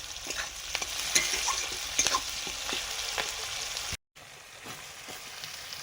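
Sliced potatoes and onions sizzle in a frying pan, with repeated scraping and clicking stirs over a constant close hiss and a momentary dropout partway through.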